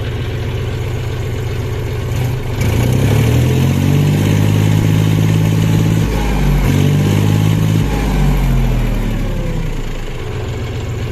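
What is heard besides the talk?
John Deere 5105 tractor engine started and idling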